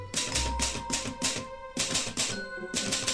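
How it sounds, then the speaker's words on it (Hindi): Typewriter keys clatter in fast, steady bursts with a ringing carriage bell and short pauses between runs. The sound is loud and close, with no voices. "मेरे दादाजी के पास यही टाइपराइटर था।"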